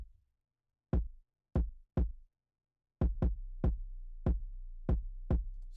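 Punchy kick drum hits, first three spaced apart with silence between, then a steady run of kicks over a sustained deep sub-bass rumble.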